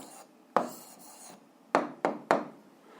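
Writing out the answer to a school physics problem on pulleys, heard as a few short scratchy strokes, one isolated and then three in quick succession, close and fairly quiet with no talking.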